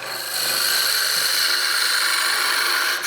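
A wooden peppermill blank on a lathe spins and slips on its tenon under too much pressure, giving a steady, close rubbing whir with a faint scraping edge that lasts about three seconds, then cuts off.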